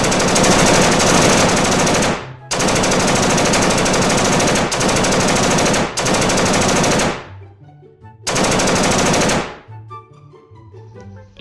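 Loud, close automatic gunfire comes in several long, sustained bursts separated by short pauses. The last burst stops abruptly, leaving faint clinking debris, with no talk.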